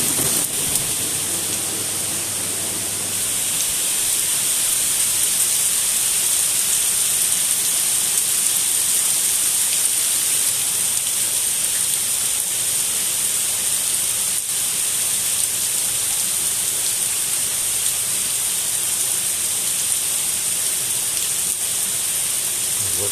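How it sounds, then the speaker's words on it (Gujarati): Heavy rain pours steadily and loudly throughout, a dense continuous hiss of drops with no pauses or voices. "જોરદાર જોરદાર વરસાદ પડે છે"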